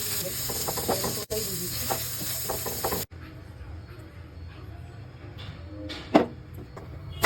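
Food frying in a pan at a street food stall, a crackling sizzle with scattered stirring taps and clinks, the sound thinning after a sharp cut and ending with a couple of louder knocks.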